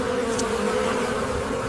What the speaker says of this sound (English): Natural pollinators like bees are encouraged in the orchards